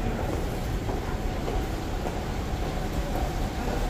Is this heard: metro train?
yes